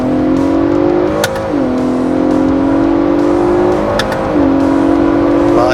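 A 2022 Ford Bronco Raptor running a Whipple tune revs hard under acceleration, its engine note climbing steadily and dropping at two crisp upshifts before pulling again, loud and close with no talk.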